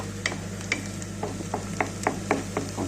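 Two onions soft-frying in a pan, a low steady sizzle with scattered light clicks and scrapes of stirring, close and fairly quiet.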